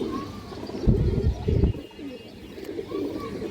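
A pigeon coos in a few low, soft phrases close by, with a couple of louder thumping bursts in between and faint background noise throughout.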